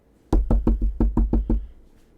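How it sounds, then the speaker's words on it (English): Seven firm knocks on an apartment door by police, an even rapid rhythm, loud and close, fading into quiet afterward with no talking. "So if they knock now"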